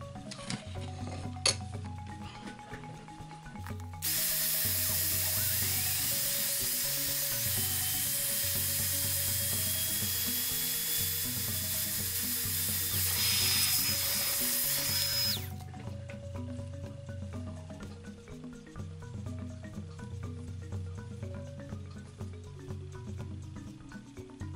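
Electric sander working a resin piece in a roughly 11-second loud, steady burst with a high whine, starting and stopping abruptly, set against quieter background sounds.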